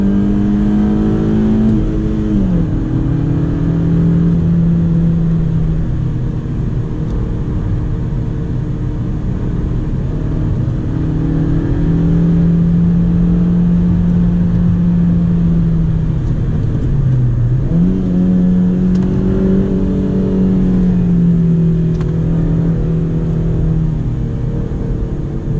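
A manual Honda Civic G8 accelerates along a road, its engine droning loudly and steadily, with a clear dip as the revs drop for a gear change near the start and again midway, then climbing once more.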